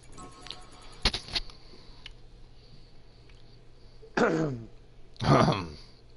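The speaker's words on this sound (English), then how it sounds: "Clear my throat." A person clearing their throat in a few rough bursts, close to the microphone, separated by quiet pauses with small ticking and clicking sounds.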